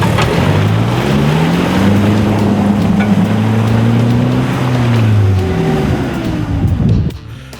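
Toyota Hilux revving hard as it drives through a muddy bog hole. The engine note rises and falls loudly for several seconds, then cuts off abruptly.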